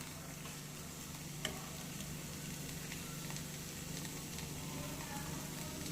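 Rice in a pan being stirred after salt is added, a faint steady sizzle with soft scraping and one small click, heard close with no talk.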